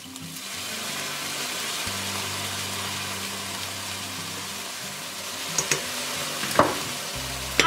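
Garlic and beef fry in a pan, a steady loud sizzle with a low hum underneath and a few sharp clinks of a utensil near the end; no one speaks.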